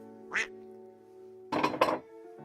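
A duck quacking sound effect plays as one short quack, then after a pause two quick loud quacks close together, over a faint steady hum.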